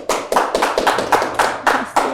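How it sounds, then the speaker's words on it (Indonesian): Applause for an interview guest on a talk show, about eight quick, even claps or bursts of clapping, close and loud, with no talking. "berikan tepuk tangan untuk narasumber kita kali ini"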